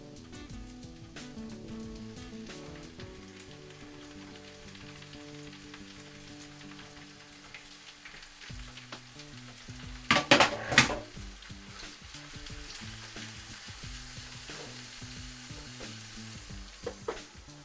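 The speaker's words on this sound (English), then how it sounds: "It's ready for your mushrooms now. So we're gonna add our mushrooms." Mushrooms frying in butter in a pan make a steady hiss and crackle, with pan and utensil clatter and a louder burst of sizzling midway. Close, with no one speaking.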